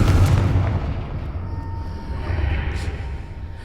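A Confringo fire-blast spell cast in the Hogwarts Legacy video game, heard as a heavy booming explosion at the start that settles into a continuous low rumble, with a soft whooshing burst near the end.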